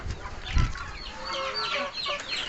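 Brahma chickens clucking among poultry kept for sale in Banda Aceh, with soft overlapping clucks and calls at moderate distance and one low thump early on.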